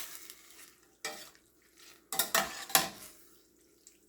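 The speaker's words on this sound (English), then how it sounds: "I'm just going to stir this." Ranchero beans cooking in a pan are stirred with a utensil, giving a few scraping, sloshing strokes and clinks over a faint simmer, close and fairly quiet.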